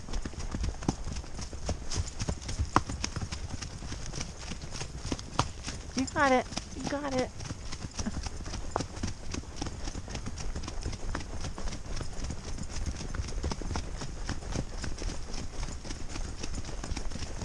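Hooves clip-clop in a steady rhythm on a hard surface, with voices talking nearby and a brief high squeal in the middle.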